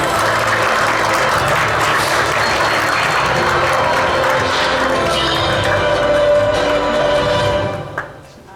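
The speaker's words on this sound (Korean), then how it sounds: "여러분 큰 박수로 맞이해 주시죠." A big round of applause fills a forum hall welcoming a speaker at the MTN resource and energy network forum, loud and sustained, then fading out near the end with a single thump.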